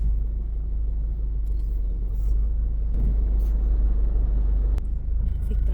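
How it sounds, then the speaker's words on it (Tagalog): Road traffic at an airport: a deep, steady low rumble of idling cars and heavy vehicles nearby, with occasional hisses and a sharp click near the end. "Traffic. Pati sa airport,"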